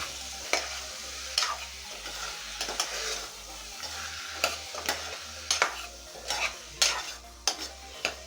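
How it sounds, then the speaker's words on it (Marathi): Brinjal and potato sauté gently in a pan on a low flame, with a spatula scraping and tossing in irregular bursts over a soft sizzle, while steady background music hums underneath. "गॅस कमीच ठेवायचा आहे तुम्हाला आणि याला पण छान असं परतून घ्यायचं"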